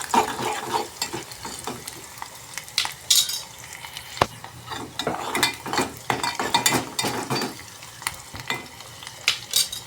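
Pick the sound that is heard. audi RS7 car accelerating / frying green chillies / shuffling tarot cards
frying green chillies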